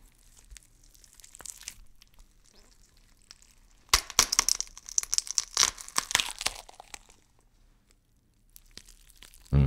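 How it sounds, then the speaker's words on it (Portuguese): After quiet with faint rustling, a close burst of wet cracking, crunching and tearing lasts a few seconds, then fades to near silence. "ouvi um estalo estranho, como se fosse um rangido molhado de carne sendo puxada para fora dos ossos"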